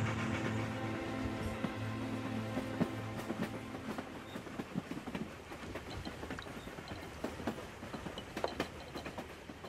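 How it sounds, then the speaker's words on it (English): Train running on rails in early 20th-century France, a steady rolling rumble with irregular clicks and clacks from the wheels, fairly close and continuous. "He climbed aboard a train for Paris"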